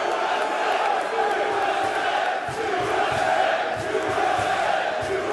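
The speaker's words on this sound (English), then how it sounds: "the crowd reacts vehemently to that show of sportsmanship." A large wrestling crowd at a live tag team title match roars in a sustained, loud wall of shouting and jeering, with an announcer's voice running over the din.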